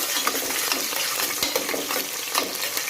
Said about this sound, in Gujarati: હવે નાખીશું આપણે ડુંગળી અને હવે આને સારી રીતના સાંતળી લેવાની છે